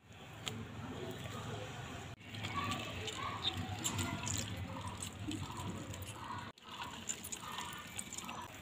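Banana juice being strained and squeezed through a net, giving a continuous wet trickling and dripping with brief pauses, close and moderately quiet, without speech.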